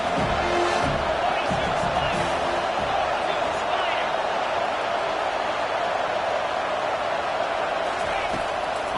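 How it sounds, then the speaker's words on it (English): A large stadium crowd at a USC versus Notre Dame college football game roars continuously with cheering and whoops, loud and sustained, with voices talking over it. "This crowd knows when to bring it."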